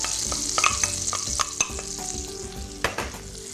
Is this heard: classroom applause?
no